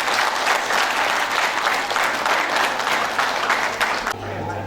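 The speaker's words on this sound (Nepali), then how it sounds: "हाम्रो आर्टेल मण्डलीको हाम्रो यहाँको भएको सबै सदस्यहरूले उहाँहरूले ताली बजाएर हामी चाहिँ स्वागत गर्न चाहन्छौँ।" Wedding guests in Kathmandu clap steadily in welcome, a dense, loud burst of applause that fills nearly the whole stretch before cutting off abruptly near the end.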